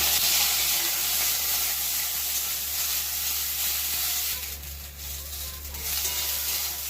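Mustard seeds and cut chilli sizzle in hot oil while tempering for a jujube chutney, a strong continuous hiss that briefly dips and swells again, close and with no talking.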